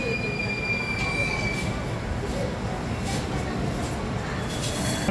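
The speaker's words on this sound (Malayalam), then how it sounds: "ട്രെയിൻ പോകുന്ന സൗണ്ടാണ് ഈ കേട്ടത്." A train moves off from a railway platform with a steady rumbling roll of wheels on the track and thin, high wheel squeals running through it.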